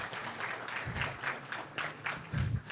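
Audience applause at a Python Brasil conference talk, a steady crowd clapping for under three seconds and swelling toward the end.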